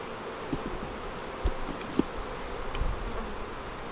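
Soft, steady buzzing of many honey bees close by at an opened nuc hive during inspection, with a few light knocks and rustles over the low hum.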